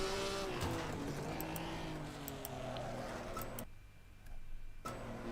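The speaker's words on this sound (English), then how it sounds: "my sim rig actually kind of resembles the sounds that this car makes." Race car engine in a sim racing video game, a continuous high whine that rises and falls with gear changes, dropping out briefly as the game audio cuts in and out.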